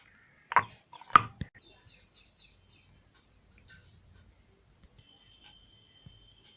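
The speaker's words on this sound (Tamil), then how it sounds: "இப்போ வந்து துளசியும் நல்லா தட்டி எடுத்துக்கலாம்" Holy basil (tulsi) leaves are pounded for a herbal tea. Two sharp, close thuds land about half a second apart early on, and only faint, scattered knocks and light rustling follow in a quiet room.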